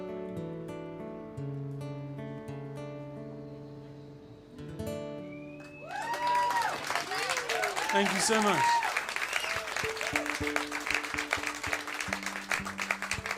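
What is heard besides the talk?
applause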